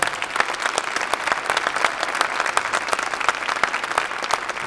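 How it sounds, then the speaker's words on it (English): A crowd's sustained applause after a junior jazz band performance rolls on steadily for several seconds, dense and close, with no speech over it. "Give them all a round of applause."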